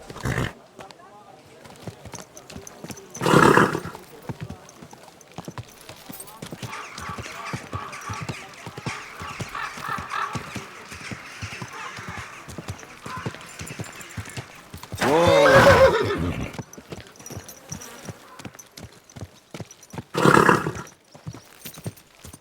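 A horse in Kingdom Come Deliverance II gives a few loud whinnies in short bursts, with a steady run of hoof clops beneath and a voice speaking briefly.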